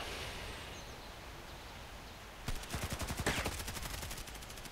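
Rapid gunfire crackles in the Contract Wars video game on the Old Sawmill map, a quiet ambient lull giving way to a sudden burst of fast repeated shots that continues steadily to the end.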